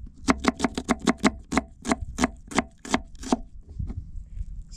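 A knife chops onions on a board in a quick run of about fifteen sharp, close thwacks that gradually slow and spread apart before stopping.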